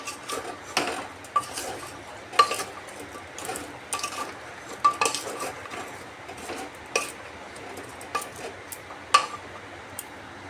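Ash gourd and moong dal being mixed with salt by hand in a bowl, soft wet squelching and stirring with faint irregular clicks and taps of a utensil, close and quiet, no talking.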